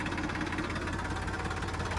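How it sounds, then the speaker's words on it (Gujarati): A tractor's steady mechanical engine drone with a rapid knocking rhythm runs continuously throughout, close by and moderately loud, with the tractor put into first gear. "હવે આપણે હાથે ટ્રેક્ટરને ગેરમાં નાખી દીધો પહેલા ગેરમાં"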